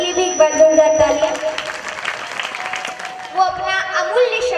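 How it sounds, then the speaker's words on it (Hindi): Audience applause at a Kaal Bhairav temple event, moderate clapping blended with ongoing music and tonal sounds, fairly close and continuous. "उनके लिए भी एक बार जोरदार तालियां"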